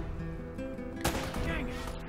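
Gunfire in the video game Uncharted: Drake's Fortune at the Customs House, a sharp shot cracking midway over a steady game-music and ambience bed.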